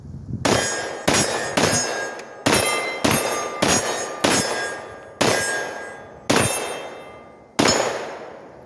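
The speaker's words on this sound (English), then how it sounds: "let's fire a couple of rounds with this guy over here." A series of 9mm pistol shots fired through a Kaw Valley linear compensator, about nine sharp, loud reports spaced irregularly, each decaying quickly, with no voices in between.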